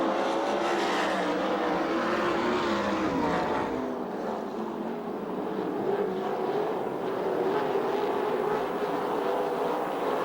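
USAC/CRA sprint cars race at Perris, California, their engines blending into a steady, fairly distant, droning roar with rising and falling pitch as the pack circles the track.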